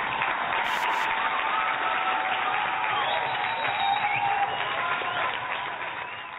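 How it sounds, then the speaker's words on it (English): Steady, dense applause from a crowd, clapping continuously at an even level throughout. "Round of applause for um for Rochelle here."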